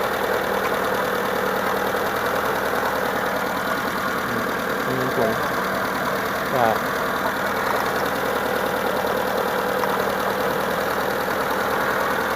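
A car engine idles roughly, with cylinders one and four pulling weakly as if about to stall, from low compression and a faulty head gasket. A steady, close, uneven rumble runs throughout with a few brief knocks.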